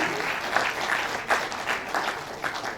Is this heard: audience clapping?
yes